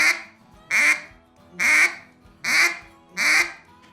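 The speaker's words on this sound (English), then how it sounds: "we're going to do the gwit sound and quack sound" A duck call blown with an open hand gives four evenly spaced, nasal quacks, each a short, loud, buzzy blast separated by brief pauses.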